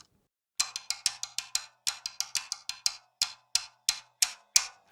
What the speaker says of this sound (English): So that's the floor tom.